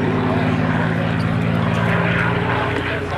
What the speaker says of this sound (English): that airplane is picking up speed at a tremendous rate